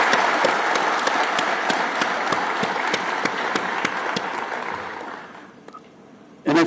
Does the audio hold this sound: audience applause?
yes